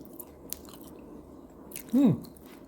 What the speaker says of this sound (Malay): Sawi dan juga tauge masih kekal rangup.